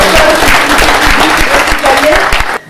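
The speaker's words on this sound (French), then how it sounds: "On peut l'applaudir." Audience applause at a 2011 Telethon thank-you event in Wimereux, a dense, steady clapping wash held at full level from start to finish before cutting off abruptly near the end.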